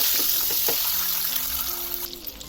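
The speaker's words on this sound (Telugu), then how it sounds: "మీకు ఎన్ని కావాలనుకుంటే అన్ని ఎగ్స్ వేసి ఆయిల్లో ఫ్రై చేసుకోవాలి" Eggs frying in hot oil with turmeric in a pan make a close, bright sizzle and crackle throughout, with a few sharper pops and faint tonal clinks of utensils in the middle.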